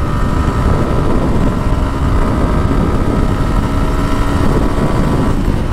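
Motorcycle engine held at high revs in fifth gear, a loud, steady, close drone with no breaks and no talk.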